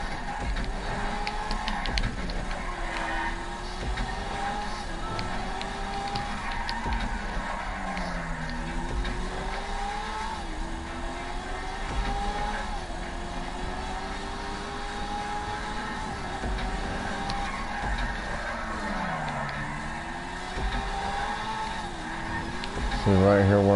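A car driven in the GTA video game, its engine droning steadily and rising and falling in pitch through repeated gear changes and acceleration, with people talking over it throughout.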